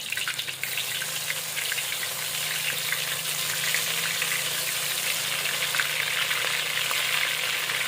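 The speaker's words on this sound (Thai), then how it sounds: "น้ำมันร้อนเราลองดูก่อนนะคะ เทสน้ำมันก่อน อ้าวร้อนแล้ว ใส่ปูเลยค่ะ" Crab in batter frying in hot oil in a home kitchen, a loud, dense, continuous crackling sizzle that holds steady and close throughout, with no voices.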